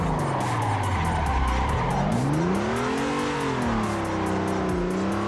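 A drift car in the Assetto Corsa racing game slides with loud, continuous tire squeal that rises and falls in pitch over a steady engine drone, close and unbroken from start to end.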